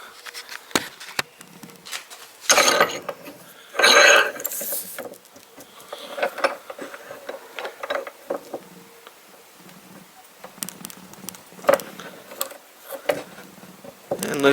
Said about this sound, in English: So I'm going to go back over here to my arbor press.